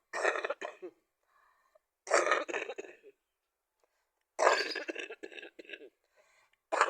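Several close, harsh coughing fits come in short clusters, separated by quiet pauses.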